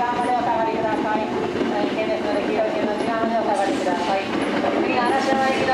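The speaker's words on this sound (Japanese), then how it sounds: "2号線の電車が発車いたします。" A Hankyu 8300 series train pulls away from a station platform with a continuous rolling rumble and rail noise, loud and near, while a platform announcement plays over it.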